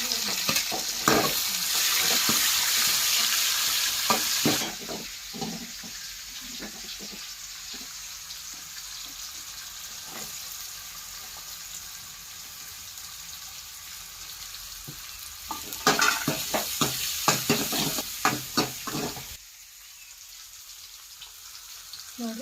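Curry leaves, onion and tomato fry loudly in a pan with bursts of bright sizzling and spitting, then quieter crackling with scattered stirring scrapes, before a second loud sizzle flares near the end.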